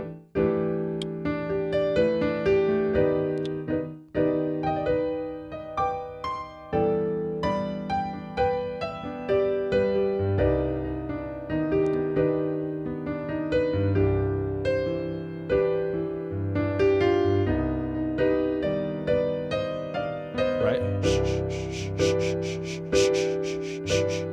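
Piano chords comped in a steady double-time feel, rhythmic harmonic stabs played close and clear with sustain-pedal ring, continuing alone for the full stretch without any talk.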